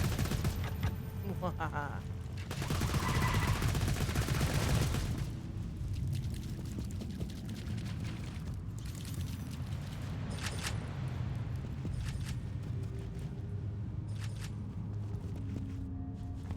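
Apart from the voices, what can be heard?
magic missile casting in video game Borderlands 2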